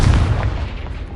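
Confringo blast in Hogwarts Legacy: a short, loud, low explosive boom that rolls off quickly, heard on its own without talk.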